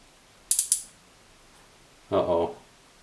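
The laser mechanism of a Sony PSone console gives three quick, sharp mechanical ratcheting clicks close up, and a short burst of voice follows a moment later.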